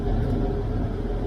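A Kubota M8 tractor's diesel engine idles in a field in seventh gear, a low steady rumble that is close and continuous for a brief moment, with no talk.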